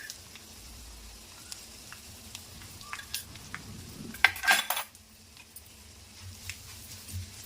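Turmeric stirred into a tempering of crisp-fried curry leaves in a pan, faint background sizzle broken by a few light spoon scrapes and taps against the metal, briefly busier near the middle.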